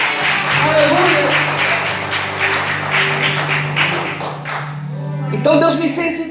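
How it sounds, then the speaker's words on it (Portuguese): A church congregation claps in praise to the Lord, a steady patter of hands running under continuous talk and background music before fading into quieter speech near the end. "Aplaude o Senhor por isso, aleluia."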